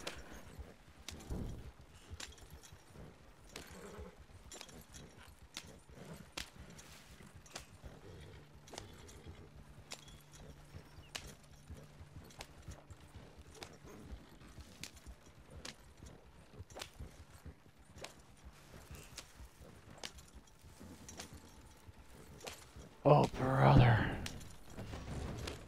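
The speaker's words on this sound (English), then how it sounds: "This horse not be fast." Steady clip-clop of video game horse hooves trotting at an even pace, fairly quiet, with a brief louder burst near the end.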